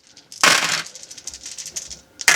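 A handful of blue defense dice for a Star Wars Shatterpoint tabletop game tumbling onto a table: a loud clattering burst followed by lighter rattles and a final click, close and without talk.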